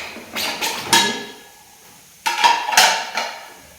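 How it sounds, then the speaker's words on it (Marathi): Ceramic dinner-set plates being taken out and stacked, two bursts of clattering knocks and clinks separated by a quiet pause, close and fairly loud. "तर 2 मोठ्या प्लेट काढू"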